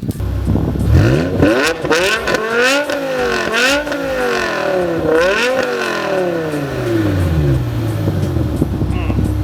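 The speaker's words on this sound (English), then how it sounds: "Everything else is stock, but it allows the V10 to sing, gives it deep enough tone." A BMW M5 V10 with Corsa axle-back exhaust, otherwise stock, revs loudly nearby in several rising and falling sweeps, each climb ending in a quick drop before settling into a deep idle.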